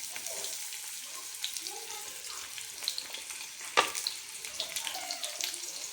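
Tempering seeds and onions fry in hot oil for a carrot fry dish, giving a continuous close sizzle with scattered crackles and one sharp pop midway.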